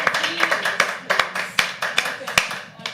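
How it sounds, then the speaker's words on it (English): Audience applause at a live poetry open mic, a steady patter of many hands clapping close by with sharp individual claps standing out across the whole stretch. "Can we have a big round of applause for him?"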